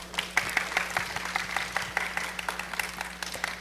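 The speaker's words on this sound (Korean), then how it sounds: "연구원님께 큰 박수 부탁드릴까요?" Audience at an electric bus development talk applauds a researcher: moderate, somewhat sparse clapping with distinct individual claps over a steady low electrical hum, fairly quiet overall.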